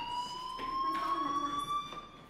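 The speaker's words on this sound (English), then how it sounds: "Do you hear that fire alarm? That means you should be outside." A fire alarm rings in the video game Life Is Strange, a loud, steady, high electronic tone that holds evenly throughout, with faint background noise and no talking.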